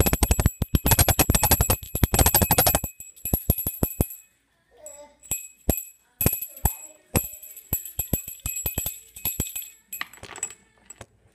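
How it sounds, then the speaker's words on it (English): A service bell is struck again and again: a fast run of bright, ringing dings up close, then sparser single strikes with short gaps between them. "So this bell right here is when we need service."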